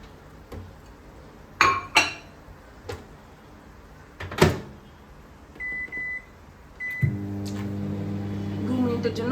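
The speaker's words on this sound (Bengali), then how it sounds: "এই যে এইটুকু ভাত মাইক্রোওয়েভ করে নেবো" A small portion of rice is heated in a microwave oven: a door clatters and dishes clink, then a beep sounds, followed by the oven's low steady hum starting up and running on.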